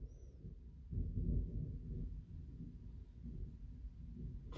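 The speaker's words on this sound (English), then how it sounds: "It's really thundering." Low thunder rolls outside during rain, a deep rumble that swells after a second and then lingers faintly and steadily in the distance, with no voices.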